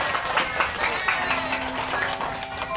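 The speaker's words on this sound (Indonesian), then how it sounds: "Berikan tepuk tangan dulu buat Mas Rido, tepuk tangan semuanya" Guests clap together at a child's seventh birthday party hosted by a clown, a steady patter of hands mixed with crowd chatter and a faint tone, sustained throughout.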